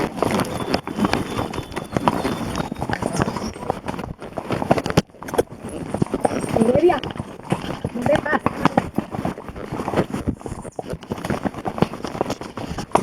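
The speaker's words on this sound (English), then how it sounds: "horseback riding in Puerto Rico, San Juan, like we always do" Horse hooves clip-clop in a steady, uneven rhythm on a horseback tour through the Carabalí Rainforest in Puerto Rico, with riders chatting over the hoofbeats throughout.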